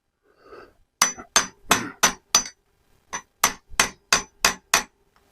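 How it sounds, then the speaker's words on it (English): A metal hammer striking a machine part, a quick run of about eleven sharp, ringing blows in two bursts, close and loud with no talking. "Mr. Hammer met Mr. Knuckle."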